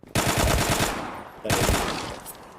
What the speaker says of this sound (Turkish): Yerden silah aldım vurdum.